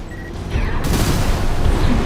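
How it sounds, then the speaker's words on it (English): Missile launch explosions in the Armored Core 6 video game set off a loud, sustained rumbling roar of blasts that swells in about half a second and then keeps booming steadily. "Missile launch sequence complete, Chief."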